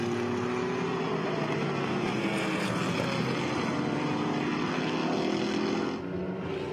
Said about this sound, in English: we're looking at the battle further in the pack as we watch all of these great IMSA prototypes go by